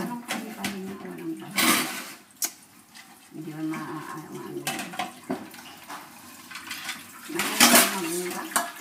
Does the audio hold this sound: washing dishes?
yes